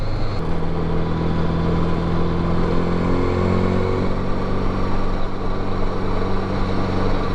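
A 1981 Honda Goldwing GL1100 motorcycle running steadily while being ridden, its mid-pitched engine drone constant and fairly loud throughout, with a slight rise in pitch partway through and no talking.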